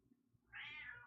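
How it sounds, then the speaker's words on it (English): A cat meows once from outside a closed door, a single drawn-out, fairly faint cry rising after a quiet start, with no speech. "Can you guys hear my cat outside the door?"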